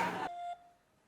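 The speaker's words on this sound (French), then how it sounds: "Amenez-moi mon téléphone, on va appeler Teddy" A phone dialing tone: a short burst of broadband noise, then a single steady electronic beep lasting about a quarter second, fading into quiet.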